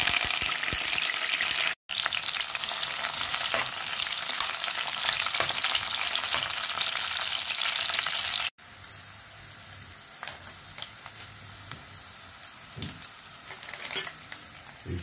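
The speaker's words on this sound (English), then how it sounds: "I'll add some ginger, garlic, scallion, and thyme to the pot" Ginger, garlic, scallion and thyme frying in a pot for a Jamaican curry kidney dish, a steady loud sizzle with stirring scrapes throughout, briefly cut out twice.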